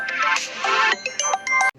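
A phone ringtone plays loud and close, a repeating melodic pattern of bright tones that cuts off abruptly near the end.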